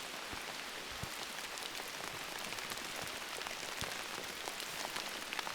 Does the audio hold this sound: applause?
no